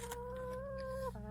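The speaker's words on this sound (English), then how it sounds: "Don't mind the chickens." A single drawn-out hen call rises and holds, then breaks off into a short second note, close and moderately quiet over a low background hum.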